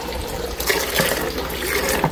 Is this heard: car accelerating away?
no